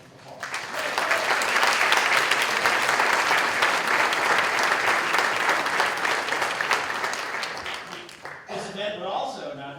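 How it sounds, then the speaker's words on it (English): Audience applause at an MLK Day celebration event, a sustained dense burst of clapping from a crowd that swells quickly, holds strongly, then thins out as a voice begins speaking near the end. "please give them a round of applause"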